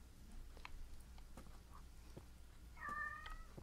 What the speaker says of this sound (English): Oh my God, the cat meowed.